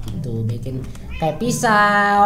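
A cat meows in the Minecraft video game, giving a couple of short high mewing calls near the end, while a person talks over the game sounds throughout.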